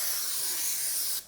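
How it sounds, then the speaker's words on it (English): Brake cleaner hisses from an aerosol can in one steady, close, loud spray onto a BMW engine's front crank seal, cutting off abruptly at the end. "I'm gonna spray it off with some brake cleaner and clean it up."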